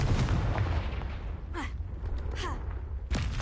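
A Confringo fire spell in a Hogwarts video game erupts as a sustained, loud explosive boom and rumble, with brief whooshing streaks layered over the blast.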